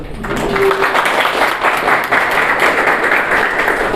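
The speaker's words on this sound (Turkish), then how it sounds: "Hem bir alkışlarız." Sustained applause from a seated audience at a student interview event, steady dense clapping filling the whole stretch at even loudness, fairly close, with no speech over it.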